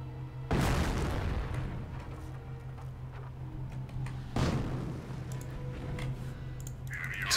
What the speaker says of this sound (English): So keep my mortar pounding away